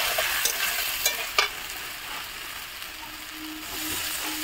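Jackfruit and potatoes sautéing in a spice masala with turmeric and a splash of water, a bright frying sizzle with a few sharp stirring knocks early on, then a quieter steady crackle.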